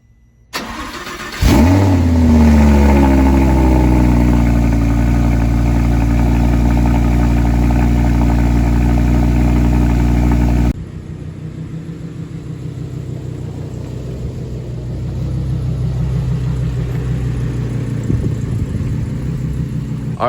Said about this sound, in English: the R8 is out and getting warm.